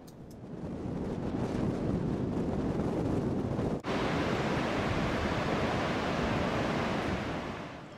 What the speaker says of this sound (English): Beauchamp Falls rise to 25 metres and are reached at the bottom of a long woodland path.